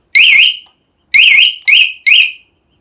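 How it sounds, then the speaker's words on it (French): An armed alarm on a Yamaha TZR motorcycle goes off when the bike is shaken. It sounds as four loud, warbling electronic beeps: one long burst, a pause, then three quicker bursts close together. "l'alarme elle est branchée, donc si je la mets en mode démarrage et que maintenant je secoue la moto"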